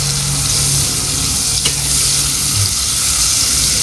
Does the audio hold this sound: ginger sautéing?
yes